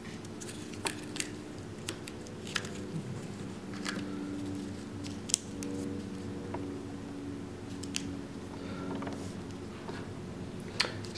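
A paper dollar bill is folded and creased for origami. Soft, sparse crinkles and small ticks come at irregular moments against a quiet room, with no voices.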